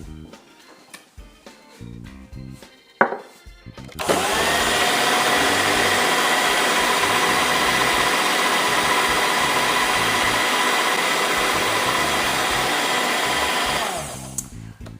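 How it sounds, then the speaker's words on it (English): An electric mixer beating eggs into cake batter, starting after a few seconds of clinks and handling noise and then running as a loud, steady whirring drone for about ten seconds before cutting off. "So when you pop one egg in, we're going to mix it until it's all combined."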